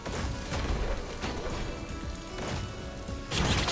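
Explosions burst in Rogue Legacy 2, a loud dense rumble of crashes and booms with sharp bursts near the start, middle and a heavier blast at the end, continuous and close.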